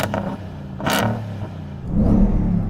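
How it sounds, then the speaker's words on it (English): A Hennessy supercharged V8 revving in short blips, a low engine rumble rising and falling twice with a whining edge, close and fairly loud, with no talk. "let us hear that beautiful supercharged V8"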